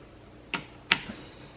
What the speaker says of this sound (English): I'm going to just take my wrench. I'm just gonna start snugging them up a little bit.